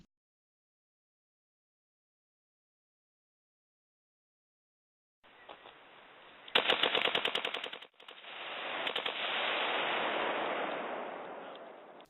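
Target shooting with guns outdoors: after several seconds of silence, rapid bursts of shots ring out, followed by a long, roaring rush of sound, heard distant and moderately loud.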